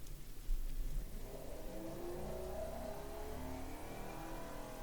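A V12 engine in a video game revs up with rising pitch, a steady climbing drone under a hissy background, moderately loud and continuous, with variable valve lift engaging at 6000 RPM.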